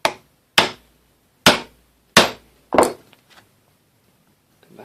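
A chisel struck with a mallet while cutting a wooden bridle joint: five sharp, close knocks spaced roughly half a second apart, then a few faint taps and quiet.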